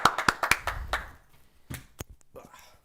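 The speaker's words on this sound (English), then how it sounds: "Clap it up for the boy." A small group in a live-show studio gives a short burst of hand clapping, sharp close claps that fade within about a second, followed by quieter talk and a few scattered taps.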